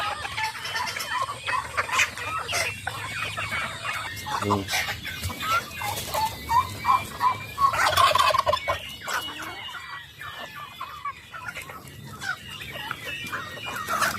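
A noisy barnyard of turkeys gobbling, chickens clucking and ducks, a busy overlapping din of fowl close at hand.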